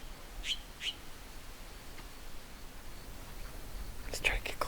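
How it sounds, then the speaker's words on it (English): Mexican jays, also called gray-breasted jays, give a few short, high chirps on a quiet trail in Big Bend, a pair near 0.5 s and a cluster near 4.2 s, faint against soft outdoor hush. "It's so quiet on the trail, the chirp of the jay pops out as well."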